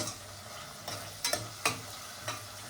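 Biryani masala for chicken donne biryani fries in a pan while being stirred: a quiet, soft sizzle with a few distinct scraping stirs spaced about half a second apart, no talking.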